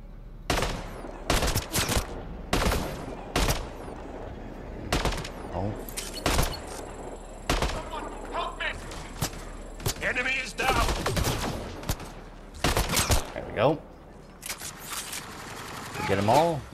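Rapid turret gunfire in the sci-fi shooter Mass Effect Andromeda, loud repeated bursts of automatic fire with short pauses between volleys, close and dominant throughout.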